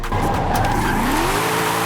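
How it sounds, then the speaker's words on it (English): A Mercedes E55 AMG wagon drifting with its tires squealing: a loud, continuous screech of rubber that bends in pitch, with the engine roaring underneath and no talking. "You don't even really hear the engine noise. You just hear tire smoke."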